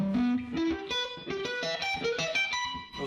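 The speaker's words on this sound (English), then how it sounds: "or with a sweep pick." Distorted electric guitar sweeps a triad arpeggio, quick rising and falling runs of picked notes flowing into each other, clear and alone.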